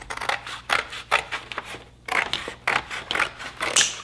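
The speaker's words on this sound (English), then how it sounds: "So now I need to cut down the middle here." Scissors cutting through cereal-box cardboard, a close series of crisp snipping crunches in quick uneven strokes with brief pauses between cuts.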